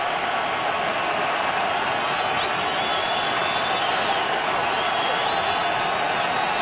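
A stadium crowd at a 2012 NFL game between the Tampa Bay Buccaneers and Oakland Raiders roars in a dense, continuous wash of noise, with a few rising whistle-like tones cutting through.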